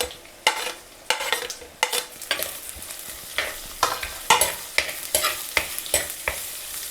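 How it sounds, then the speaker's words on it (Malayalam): Sliced onions sauté with ginger and garlic in a pan, with a bright sizzle broken by regular scraping stir strokes, close and clear, with no talking. "ഇനിയിപ്പം നമുക്ക് സവോള ഇട്ട് കൊടുക്കാം."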